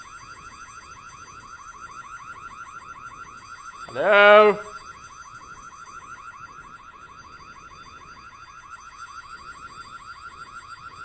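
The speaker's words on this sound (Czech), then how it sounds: "Oh my bože, ten alarm je strašne nepríjemný" A harsh electronic alarm blares in the Korean horror video game White Day, a steady trilling tone running through the whole stretch, with a single short spoken word over it midway.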